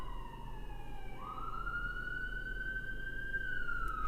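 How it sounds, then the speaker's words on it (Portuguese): A New York siren wails, its pitch sliding down and then rising again over a steady low rumble of traffic, heard from some distance. "Sirenes de Nova York"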